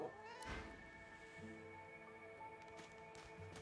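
A cat meows in the fantasy role-playing game Divinity: Original Sin 2, mid-distance over a steady bed of game music and ambience.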